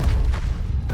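An Incendio fire spell cast in the Hogwarts Legacy video game, a short heavy boom with thudding low-end rumble, loud and close, no voices present.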